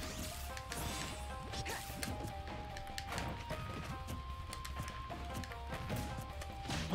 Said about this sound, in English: This guy's just forward smashing.